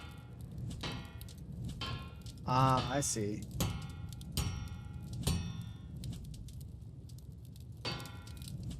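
Hammer blows ring against a sword blade at a forge in the sword-making game Bladesong, giving several sharp metallic clangs with fading rings, spaced irregularly, while someone speaks briefly.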